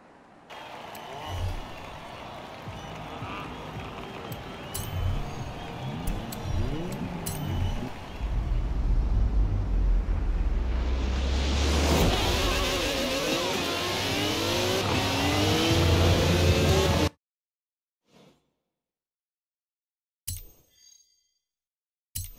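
A car driven in Forza Horizon 4 on a test drive holds a steady engine drone that rises as it accelerates, with revving sweeps through the middle, then cuts off abruptly into near silence with a few brief blips.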